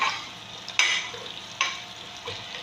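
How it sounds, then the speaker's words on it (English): Onions and a seasoning cube fry in a pot while jollof rice is being made, giving a soft, continuous sizzling hiss with a couple of sharp clatters from stirring, no voices. "So I'm going to add my onions and my seasoning cube."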